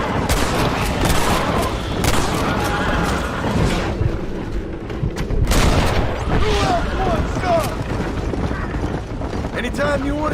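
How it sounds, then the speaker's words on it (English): Gunfire from a wagon fight in Red Dead Redemption, repeated shots and cracks layered over constant rumbling noise and commotion, with voices shouting through the fighting. "They're shooting right at me."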